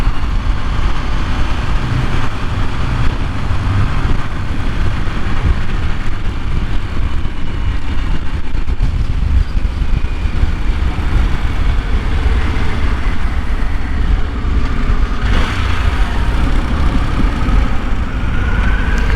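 Harley-Davidson Pan America Special, a 2023 model, on the move, with a steady low engine drone and road and wind rush that carry on without a break. No one talks.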